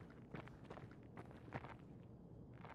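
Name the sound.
footsteps of two people in a video game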